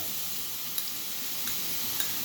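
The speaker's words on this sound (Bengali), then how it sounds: "আমার পেঁয়াজটা ভাজা ভাজা হয়ে গেছে এবার আমি এটার মধ্যে দিয়ে দিচ্ছি আদা" Chopped ginger dropped into a pan of fried onions sizzles in a soft, steady hiss, with a few faint crackles and light ticks from stirring.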